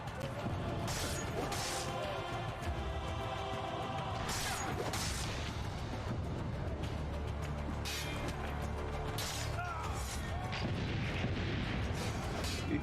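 Sharp gunshot-like cracks and crashing impacts from a hidden gun in Assassin's Creed: Brotherhood, several bursts scattered among dense combat noise and voices.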